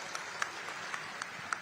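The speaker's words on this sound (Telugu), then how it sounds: "అందరూ కూడా గట్టిగా చప్పట్లు కొట్టి ఆశీర్వదించండి" An audience claps in steady, sustained applause to bless newly recruited police constables, faint and distant, with a few sharper individual claps standing out.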